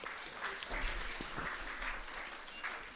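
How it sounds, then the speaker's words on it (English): Steady applause from a crowd, continuous clapping at moderate volume for the whole stretch. "let us give a big applaud"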